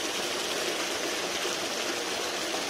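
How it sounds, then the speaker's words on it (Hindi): Clean water pumped up through a long pipe from deep underground pours into a pond, a steady continuous rushing gush with no pauses. "तालाब में पानी भरा जा रहा है स्वच्छ पानी"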